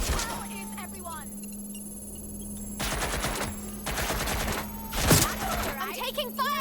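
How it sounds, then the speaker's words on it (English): In Watch Dogs Legion, loud automatic gunfire bursts out in rapid rattling volleys, with one heavy blast near the end, between stretches of quieter game ambience and electronic tones. "Someone's shooting! Shot in! Shots fired!"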